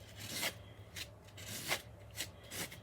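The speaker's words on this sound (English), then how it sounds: "You just keep going around, scraping as little as you can." Repeated scrapes of frosting being smoothed around a fake cake, about six short rasping strokes in an uneven rhythm, faint and close.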